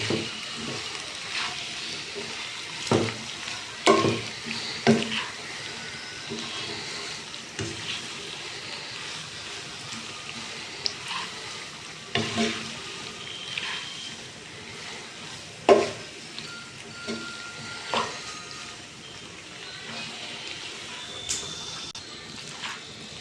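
Chicken vegetable macaroni mixed with mayonnaise, stirred in a pan with soft irregular scrapes and clinks over a faint low hiss, a few sharper knocks standing out.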